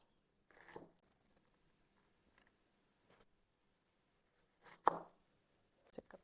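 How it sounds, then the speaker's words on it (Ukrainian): A few sparse knife chops through an onion on a board, spaced irregularly with quiet gaps between, fairly soft and close. "Не відрізайте дубки, коли нарізаєте цибулю."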